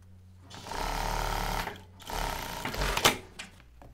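Sewing machine topstitching close along a seam edge of a women's shirt, two close, loud runs of rapid stitching with short pauses and a handling clack near the end, no speech.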